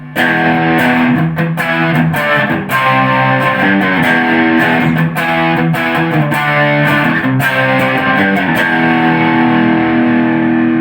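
Guitar played through the drive channel of a Joyo Tone Chain pedal, a loud, sustained overdriven tone with strummed chords and picked notes ringing continuously for about eleven seconds.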